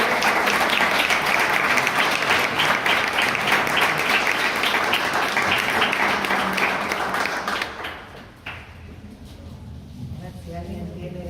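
Audience applause at a psychoanalytic book fair, steady dense clapping for about eight seconds before fading into quieter room sound with faint voices.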